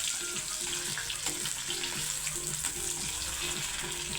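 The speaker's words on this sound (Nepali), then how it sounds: "अब तेल तातिसक्यो। यो अदुवा लसुन मैले काटेर हाल्छु होइन।" Chopped ginger and garlic fry in hot oil in a pan, a steady, dense sizzle that stays close and even throughout, with a faint rhythmic tapping underneath.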